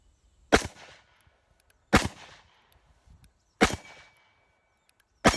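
Three loud, sharp revolver shots from a Ruger GP100 firing PPU ammunition at an outdoor range, spaced about a second and a half apart, each cracking and trailing off, with a fourth beginning at the end.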